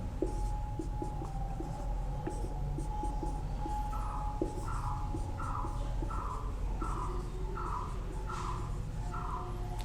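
Chalk or marker writing numbers on a board during a math lesson on cubes, with steady scratchy strokes repeating across the span over a constant background hum, no talk.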